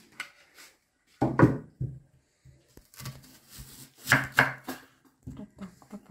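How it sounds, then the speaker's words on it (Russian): Onion being chopped with a knife for a Central Asian lamb plov: close, crisp chopping strokes in uneven bursts, one loud cluster near the middle and another toward the end, with quiet gaps between. "Сейчас я буду резать лук."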